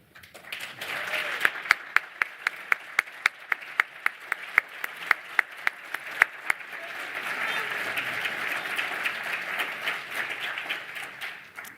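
Audience at the IIDA annual meeting applauding newly sworn-in board members, with a few sharp nearby claps standing out at first before the room settles into steady, dense clapping that carries on to the end.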